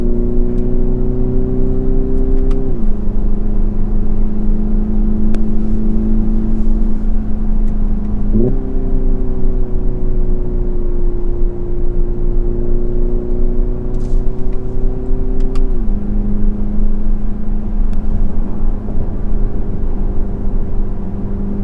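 A Hyundai Ioniq 5 N hums steadily from inside the vehicle while driving, its pitch holding and then dropping as gears shift, with a loud, constant drone throughout.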